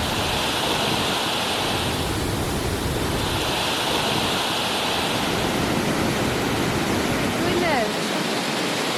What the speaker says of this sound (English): That's the waterfall right there.